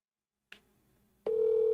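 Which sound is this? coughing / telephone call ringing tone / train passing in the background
telephone call ringing tone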